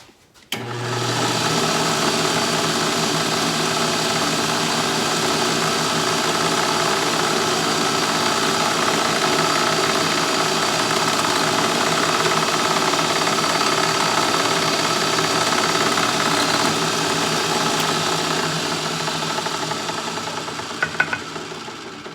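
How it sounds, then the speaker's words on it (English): A drill press runs steadily for over twenty seconds, drilling a hole in wood with a constant motor hum and vibration at close range, starting abruptly, with no voices. "So I'll take this over to the drill press and we'll get that set up to drill that hole."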